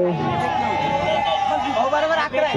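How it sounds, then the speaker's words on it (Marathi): A cricket crowd roaring and chattering steadily at a match, a dense wash of cheering and babble close by, with a commentator's voice running over it. "जल्लोष होतोय शाहबाजसाठी"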